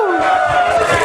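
A crowd at an IT industry tech day event cheers and whoops in a short, loud burst of overlapping voices that holds steady for about a second.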